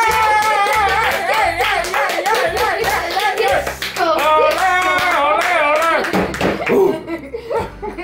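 Hands clap in a quick, steady patter throughout, close and fairly loud, mixed under lively talking and sing-song voices of several people.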